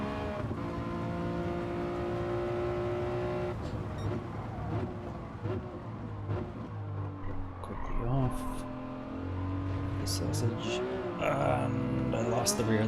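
Race car engine from Gran Turismo 7 running flat out, a loud sustained buzz that shifts pitch through gear changes, with a brief tire squeal and scattered clicks toward the end.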